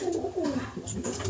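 Sick pigeons, ill since catching a cold, coo in low repeated rolling phrases close by, a steady run of soft throaty calls filling the short stretch.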